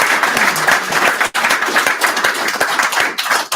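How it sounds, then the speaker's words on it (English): An audience applauds speakers at a live Web3 and gaming event in Seattle, a dense, steady burst of many hands clapping that lasts a few seconds without talk. "Please give our speakers a big round of applause."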